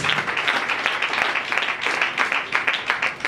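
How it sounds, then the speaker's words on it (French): A church congregation applauds in praise of Jesus, a dense, continuous round of clapping with some cheering, steady and close for a few seconds. "Acclamons très fort pour le Seigneur Jésus-Christ"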